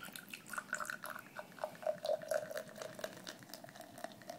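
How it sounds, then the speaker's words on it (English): Samuel Smith's organic strawberry ale is poured into a glass, giving a faint, continuous liquid trickle with fizzing and light splashing as a foamy head builds, heard alone without talking. "I'm pouring it's got way too much of a head."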